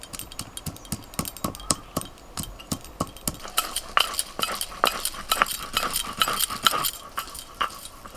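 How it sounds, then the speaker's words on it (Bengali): Ginger being ground into a paste for a home Bengali cooking session, a run of sharp clinking, tapping strikes in a quick irregular rhythm, close and fairly quiet with no talking. "এবার আদাটা বেটে নেব।"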